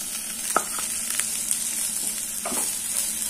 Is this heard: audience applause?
no